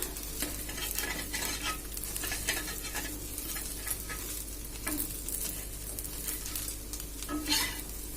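Egg fries in a pan while a utensil stirs and breaks it into small pieces, a close, continuous sizzle punctuated by scraping strokes and light clinks against the pan.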